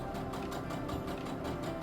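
A sewing machine stitches two baby blanket pieces together along one side, running steadily with a fast, even mechanical whir close by and no talking.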